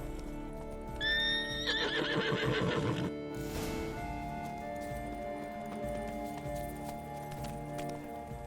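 Roach, Geralt's horse in the video game The Witcher 3: Blood and Wine, lets out a loud, shaky whinny followed by a few hoof clops, then settles into a quieter ambient game soundscape.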